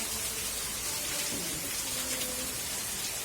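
Steady rain falling outdoors in a village garden, a dense even patter of drops on surfaces that continues without break, fairly close and alone with no talk.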